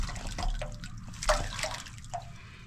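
Water sloshes and drips inside an old, never-serviced septic tank at an abandoned house, a few close splashes and gurgles spaced irregularly against quiet background.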